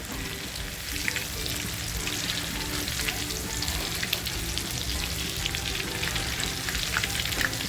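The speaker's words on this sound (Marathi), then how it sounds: "सगळ्या कोळंबी आहेत त्या अशाच फ्राय करून घेते अगोदर" Prawns sizzle in hot oil in a pan for prawn chili: a dense, steady crackle and hiss runs throughout, loud and close, with occasional sharper pops and no voices.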